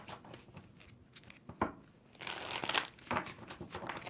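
Tarot cards being shuffled in a deck, with a few soft crinkling riffles and sharper slaps bunched together, close and fairly quiet.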